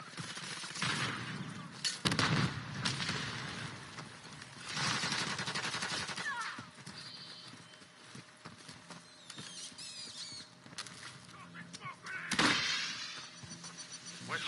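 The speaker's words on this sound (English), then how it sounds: "Semtex incoming!" Call of Duty gunfire, with bursts of automatic shots and a Semtex grenade blast, comes and goes at moderate loudness amid squealing effects and game noise, with faint voices now and then.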